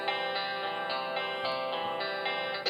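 A sustained, heavily distorted electric guitar chord from GarageBand's Smart Guitar rings out with a few re-strummed accents, dense and buzzing throughout.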